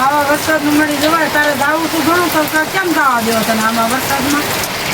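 Heavy rain hisses steadily in the background while a person talks continuously over it.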